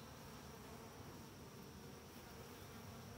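Honeybees around an opened Layens hive make a faint, steady buzzing drone that runs on without a break.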